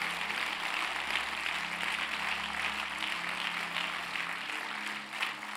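A church congregation claps its hands in praise, a sustained dense wash of applause filling the room with steady, fairly loud energy that tapers slightly near the end.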